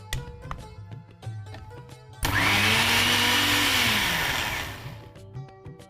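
A kitchen mixer grinder crushes green paste with yogurt, starting abruptly with a loud, steady motor whine and churning that runs for about three seconds before winding down, with quieter kitchen sounds around it.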